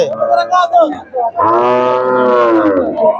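An Australian-breed cow moos loudly and close by at the Hazratpur cattle market, one low drawn-out call after a brief shorter lowing sound.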